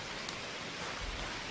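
Steady rain drums on a roof in the indie video game Garden Life, a dense, even patter that holds at a constant level throughout, close and uniform with no voices.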